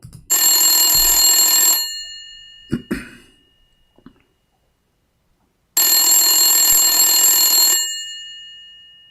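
Old telephone bell ringing in two long loud bursts separated by a pause, with a brief cough between them.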